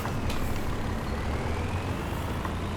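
Heavy lorry engine in Farming Simulator 22 towing a heavy machine, a continuous loud low rumble with a faint rising whine throughout.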